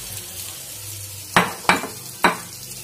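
Fried potatoes are tossed into a katla fish curry in a hot pan, each addition a sharp sizzling burst, three in quick succession over a low background hiss.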